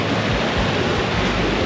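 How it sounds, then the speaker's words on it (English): Water rushes over the top of a waterfall in Newry, Maine, a steady, loud, close roar of white noise that never lets up, with no voices. "Top of the waterfall."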